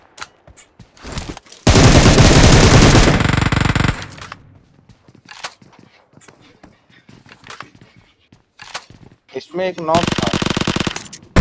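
Gunfire in the mobile battle-royale game BGMI, including an M24 sniper rifle: sharp scattered shots and two loud sustained bursts of rapid fire, with brief talk in between.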